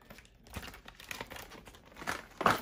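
Product packaging for a Clear TV Premium HD antenna being cut open and torn: close crinkling and rustling with sharper tearing bursts toward the end, with no talking.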